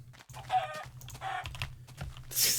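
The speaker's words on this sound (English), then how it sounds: "Oh yes, chicken." Chickens clucking in the video game Minecraft, short choppy bursts of clucks over a steady low game hum, with a brief bright hiss near the end.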